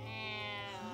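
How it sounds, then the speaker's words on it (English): A cat in the video game The Good Life gives a drawn-out, tonal meow that bends in pitch near the end, heard over a steady game soundtrack with no talking. "There's cats and dogs all over the place."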